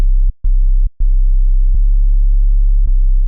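A synthesized 808-style bass made from stacked sine and triangle oscillators pitched down 24 semitones plays as sustained, deep tones, with a few sharp cut-offs and re-attacks between notes.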